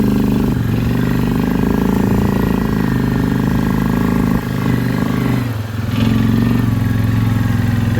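An off-road vehicle engine runs steadily while driving a rocky scramble loop on an ORV trail in Garrett County, a loud continuous mid-pitched drone with brief dips and clatter.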